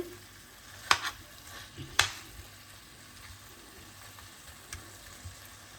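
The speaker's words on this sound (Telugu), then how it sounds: "సో హై ఫ్లేమ్ మీద మనం ఫ్రై చేసుకుంటున్నాం కాబట్టి మధ్య మధ్యలో ఇలా చూసుకుంటూ ఉండాలి" Chicken frying on high flame for chicken fry, a soft sizzle with two sharp scraping stirs near the start, then quieter spatula touches.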